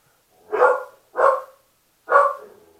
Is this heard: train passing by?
no